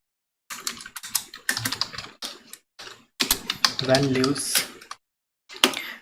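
Rapid bursts of computer keyboard typing as an SQL insert query is entered, clustered keystrokes with short pauses between, close and fairly loud, while someone talks over part of it.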